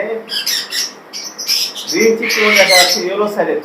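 Yellow-sided conure parrots give sharp, raspy squawks and chirps in short bursts, growing louder and denser toward the end, with a voice faintly audible beneath them.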